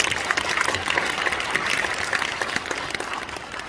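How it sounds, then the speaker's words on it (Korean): Congregation applauding at a Korean church thanksgiving service in a large auditorium, a broad, even wash of many hands clapping that carries steadily throughout, without voices over it. "다 같이 박수가 해주십니다"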